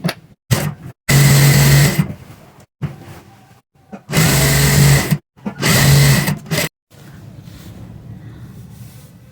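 A sewing machine stitches the long side seam of an A-line palazzo pant in bursts, several loud runs of steady whirring separated by short pauses, close up with no talking.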